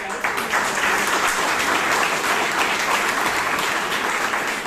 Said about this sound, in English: can we have a big round of applause for yourself?